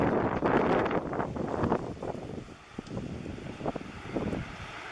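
Wind buffets an outdoor microphone in a coastal setting near a beach, a steady low rumble with gusty swells that dips briefly midway before picking up again, loud and continuous.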